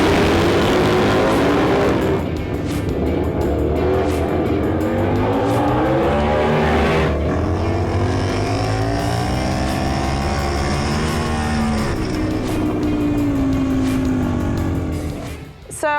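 Indian hooligan-class flat track motorcycles race at a DTRA Flat Track Nationals round, with loud engines revving and wailing up and down in pitch as bikes pass close by, a continuous roar that stays steady throughout.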